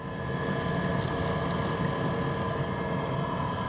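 A small electric boat motor running steadily during a test drive on the water, a constant close drone with a low rumble and faint whine throughout, no talking.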